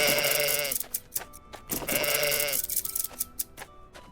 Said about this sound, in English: we had a lot of sheep today